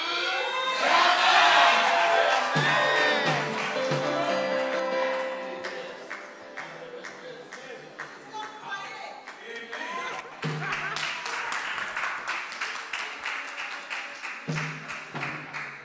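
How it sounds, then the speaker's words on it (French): A church congregation at a baptism cheering, shouting and clapping, loud and sustained at first, then steady rhythmic applause continuing throughout. "On acclame pour le frère François, qui fait partie des baptisés."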